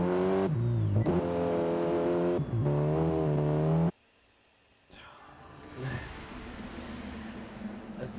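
Race cars revving at the start of a race at Circuit de Spa-Francorchamps in a racing game, a loud engine climbing and dropping through gears, then a sudden cut to near silence and a fainter engine drone returning.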